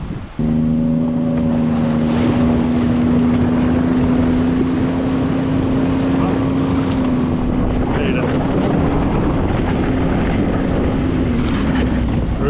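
A snowmobile sled engine runs steadily and loud close by, a sustained droning tone with heavy wind buffeting over it throughout.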